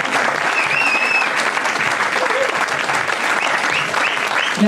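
A concert audience at a swing show keeps up an even, full round of applause for the singer, with a couple of brief whistles cutting through the clapping.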